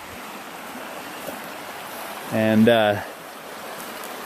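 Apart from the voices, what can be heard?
water flowing and roaring in a desert wash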